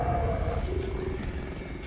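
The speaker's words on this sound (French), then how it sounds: "Wow, des loups, non!" Wolves growl and snarl in The Elder Scrolls Legends video game, a continuous low rumbling roar that holds steady and loud through the moment with no speech over it.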